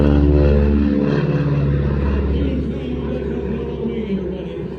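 A propeller airplane makes a low pass at the Flying Circus airshow in Midland, Virginia, its engine drone loud and steady at first, then easing slightly as it passes, with an announcer talking over it.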